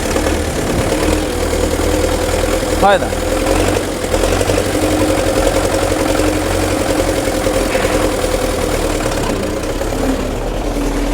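Tractor engine running while being driven, a loud, steady low rumble with a knocking diesel chug that continues for the full eleven seconds. A voice speaks briefly over it.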